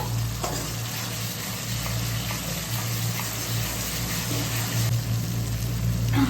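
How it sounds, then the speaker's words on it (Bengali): Spice masala with chilli powder and salt sautéing in a pan for a Bengali crab curry, a steady close sizzle with faint stirring scrapes running throughout, no talking. "এবার মশলাটাকে কষাতে থাকবো।"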